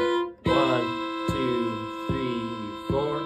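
Fiddle playing a sequence of double stops, four sustained bowed two-note chords in a row, each with a clear attack and ringing harmonics, close and alone with no talking.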